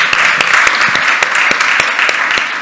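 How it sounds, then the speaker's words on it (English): An audience at a morning summit applauds, a dense close burst of many clapping hands that holds steady and loud throughout. "One more round of applause."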